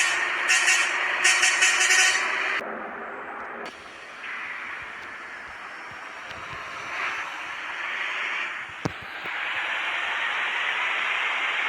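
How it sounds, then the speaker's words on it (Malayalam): Lorries in Bus Simulator Indonesia with a Kerala traffic mod, a video game: engine drones and rumbling traffic pass by, with a sharp air-brake hiss and a short clank partway through, steady and fairly loud. "അതേപോലെ വണ്ടികളൊക്കെ വരുന്നതാണ് നിങ്ങൾക്ക് ശരിക്ക് ഒറിജിനൽ അടിപൊളിയായിട്ടുള്ള ലോറികൾ,"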